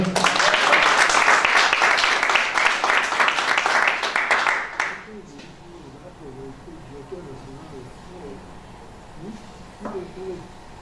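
A congregation at a Full Gospel gospel breakfast gathering claps and cheers loudly for the Lord for about five seconds before the noise drops away abruptly, then someone speaks over the quiet room.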